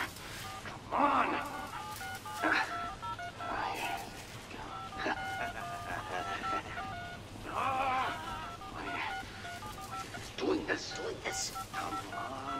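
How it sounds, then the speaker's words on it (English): Phone keypad beeps sound as code is entered in the Catwoman's Revenge DLC video game, a series of short tones in irregular bursts mixed with talking throughout. "will manually execute the jailbreak protocol by using the keys on this phone to write lines of code"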